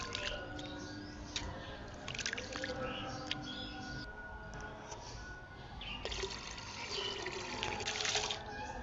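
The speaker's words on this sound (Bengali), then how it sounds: "খুদের চালগুলো ভালোভাবে ধুয়ে নিচ্ছি" Broken rice grains are washed with water, giving soft sloshing, splashing and trickling sounds that come and go in small surges, close by and fairly quiet.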